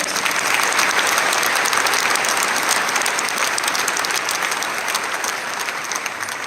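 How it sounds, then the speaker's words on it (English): A graduation ceremony audience applauds staff members, a loud, steady wash of clapping from a large crowd that holds without a break from start to finish. "Let's give them a resounding applause."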